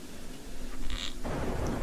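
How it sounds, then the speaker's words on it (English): A brief rumble of thunder rolls over a steady wash of rain in the video game Orphen: Scion of Sorcery, a moderately loud storm with no voices. "I hope you're all enjoying the sound effects of the rain and"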